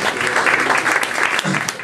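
A conference audience in Paris applauds to welcome Marc Quentin of Matchware, with steady, close, dense clapping filling the whole short stretch, and a voice briefly audible underneath.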